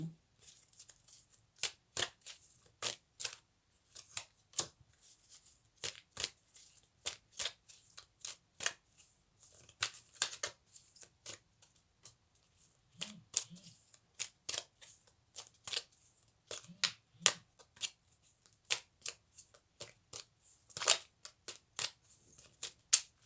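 Tarot cards are shuffled for a daily reading: a steady run of crisp, papery riffles and snaps, close and fairly quiet, repeating in quick bursts with brief pauses and no talking.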